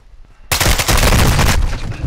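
Gunfire from a video game hits the player in a dense burst, a loud rapid volley of overlapping shots erupting after a brief quiet start, then tailing off.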